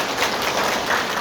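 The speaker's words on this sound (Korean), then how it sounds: "수고해 주신 광희영 사무총장님께 다시 한번 큰 박수 부탁드리겠습니다" Audience applause in a conference hall at a Korean political party launch event, a dense steady burst of many hands clapping, loud and close, with no talk over it.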